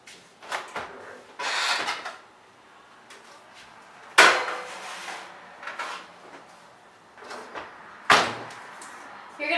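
A kitchen oven door is opened to put a tray of cookies in, giving sharp clunks and bangs at intervals amid softer handling and scraping noises nearby.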